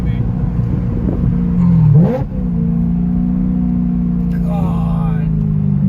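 Straight-piped BMW E92 M3 exhaust idling with a low drone, then a sharp rev blip that drops back to a steady rumble; people chatter faintly over it.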